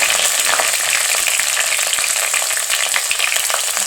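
Curry leaves fry in hot oil for a Tamil-style fish curry, giving a steady, close, loud sizzle and crackle with no talking over it.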